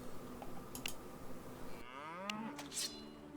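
A cow moos in The Guild 2: Renaissance, a long, loud, low bellow that rises and falls and stands out alone over a quieter game background.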